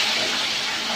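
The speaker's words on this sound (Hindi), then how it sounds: "अब हमने जो कलेजी कट कर ली थी पैन के अंदर डाल देंगे बहुत ही ख्याल से" Cut chicken liver pieces hit a hot tawa pan and give a sharp, loud, broadband sizzling hiss that holds steady for a second, with no talk.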